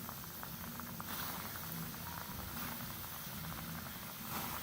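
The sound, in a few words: chicken popcorn pieces frying in hot oil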